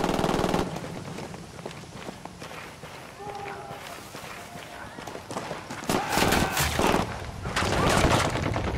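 Automatic gunfire and bursts of shooting in the tactical shooter Ghost Recon Wildlands, with running footsteps, hard rapid volleys growing louder toward the end, and voices talking over the action.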